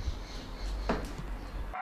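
Dogs boarding at a dog hotel during busy high season, with one short whimpering yelp rising over a steady low background hum; no other clear barks follow.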